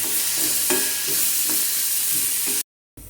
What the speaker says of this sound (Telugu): ఉల్లిపాయ ముక్కల్ని ఎర్రగా వేయించుకోవాలి